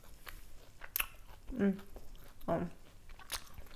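Someone bites and chews crunchy battered potato fish and chips, giving close, soft crunches and chewing amid a brief spoken word.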